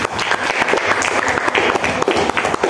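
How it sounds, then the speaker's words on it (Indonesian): A classroom of students claps together after a group presentation, a dense burst of applause lasting a few seconds, close and loud. "Silakan tepuk tangan dulu."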